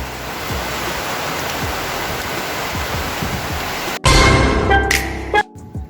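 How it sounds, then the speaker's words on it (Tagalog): Heavy rain pours in a steady, dense hiss for about four seconds, then cuts to louder, harsher close handling noise and a brief silence near the end. "Mas lakas na ng ulan."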